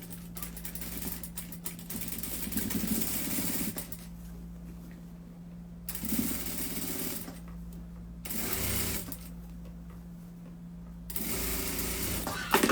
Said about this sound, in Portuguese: vou passar uma costura rebatendo isso aqui, ó, pra isso não ficar aparente